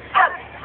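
Dogs bark while chasing after a bone, two short yelping barks, close and moderately loud, over faint background noise.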